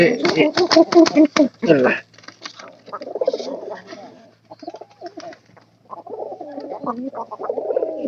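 Pigeons coo close by in low, throaty murmurs beside a newly hatched chick, preceded by a burst of rapid wing flapping and rustling.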